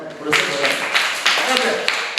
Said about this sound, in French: Applaudissez pour Pamela.